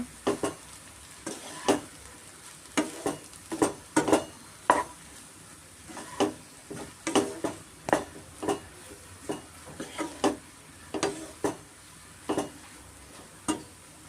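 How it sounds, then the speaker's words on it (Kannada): Pepper mushroom rice being stirred in a pan, with a spoon scraping and clinking against the metal in an irregular rhythm over a soft steady sizzle, close and without speech. "ಚೆನ್ನಾಗಿ ಮಿಕ್ಸ್ ಮಾಡ್ಕೊಳ್ಳೋಣ"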